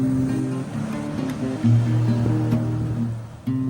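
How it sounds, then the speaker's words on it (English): Ocean waves on a seashore wash in a steady, full rush, with a tonal musical bed playing over them throughout. "Playing with the waves."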